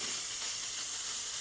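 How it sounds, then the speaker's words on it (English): Spray adhesive hissing steadily from an aerosol can onto a model tree for a model railway layout, a faint, even continuous spray with no talk. "spray the adhesive onto the tree"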